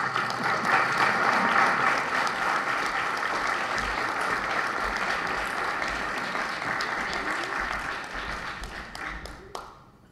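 An audience at a 2014 League of Women Voters political debate breaks into sustained, full applause that gradually thins and fades out over about ten seconds.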